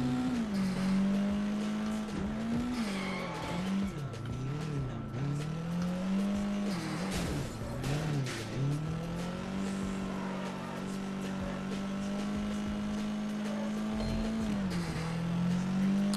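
A car with a loud exhaust in the game Sleeping Dogs. Its close, droning engine note holds steady, then rises and falls in several revving swells before settling back to a constant rumble.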